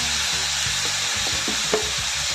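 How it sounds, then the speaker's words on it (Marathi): Onion and tomato sautéing in a pan for a fenugreek seed curry, a steady close broadband sizzle with scattered scrapes and taps of a stirring spoon, no voices. "चांगलं सॉफ्ट होईपर्यंत परतून घेऊया हे"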